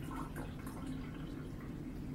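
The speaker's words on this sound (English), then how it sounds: "I have my distilled water here, it must be distilled water, and I'm going to pour in" Distilled water is poured into the reservoir of a Statim sterilizer, producing a close, continuous liquid splashing and trickling that holds steady throughout.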